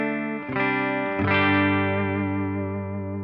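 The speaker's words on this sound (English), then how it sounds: "I'll go to the bridge of this ES355 here, you'll hear that obviously it's" A Gibson ES355 electric guitar on its bridge pickup rings through a Laney Lionheart amp, two chords struck in quick succession then left to sustain brightly with a slight effect shimmer, no talking.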